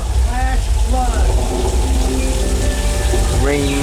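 Simulated rain and flash-flood water pour steadily across the Universal Studios Hollywood back lot tour, a broad wash of falling water with loud, constant rushing, while a guide's voice talks over it throughout.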